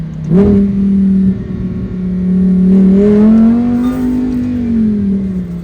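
A 2023 Lamborghini Huracán Tecnica engine revs hard and climbs in pitch, a loud, steady growl that rises and then eases slightly, close up with no talking.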